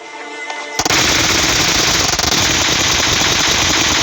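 Loud, sustained automatic gunfire from a battle royale shooter video game begins abruptly after a short quiet lead-in, then runs as a dense, continuous burst of rapid shots to the end.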